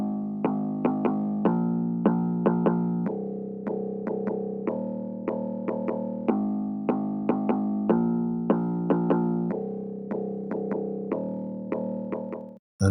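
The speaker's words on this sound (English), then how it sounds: "It is the electric bass preset from Citrus." A synthesized electric bass preset run through chorus, distortion and Blood Overdrive with the lows cut by EQ plays a repeating, punchy melodic line of plucked notes, steady and moderately quiet, alone.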